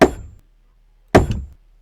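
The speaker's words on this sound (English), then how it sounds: "and now we'll get our hammer out, and let's build this" Two sharp hammer strikes ring out while building in the video game Zompiercer. Each strike is close, loud and isolated, with a clanging decay.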